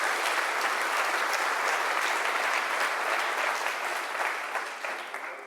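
Audience applause at a SmashingConf 2025 web-performance conference talk welcoming speaker Scott Jehl, a dense, steady ovation of many clapping hands that holds for about five seconds and tapers slightly at the end.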